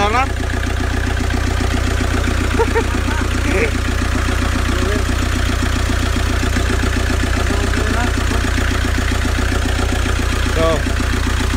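A Toyota 2KD diesel engine in a Grandia van, with a manual injection pump converted back to electronic, runs steadily after starting: a loud, even rumbling idle throughout, with people talking over it.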